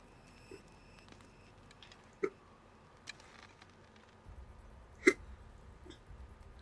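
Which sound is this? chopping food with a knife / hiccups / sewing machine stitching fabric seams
hiccups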